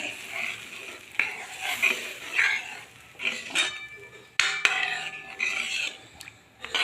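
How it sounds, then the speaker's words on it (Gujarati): A spoon stirs and mixes dal in a pot, making irregular scraping and clinking strokes against the metal over a soft sizzle, close and moderately quiet. "મિક્સ કરી લઈશું સરસ મજાને."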